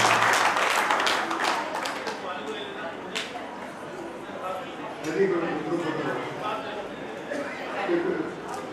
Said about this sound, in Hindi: तालियां जोरदार बजाओ ताकि वक्ता को बोलने में नहीं आ रहा